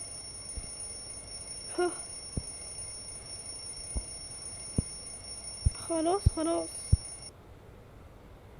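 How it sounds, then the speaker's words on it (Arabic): An alarm clock rings with a steady, shrill electronic tone that runs for about seven seconds and then cuts off, while a few short spoken remarks are heard over it. "ايه في ايه اللي كان بيرن ده؟ هو ده منبه؟"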